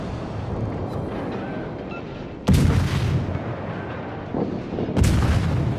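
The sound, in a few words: naval artillery shells firing in video game World of Warships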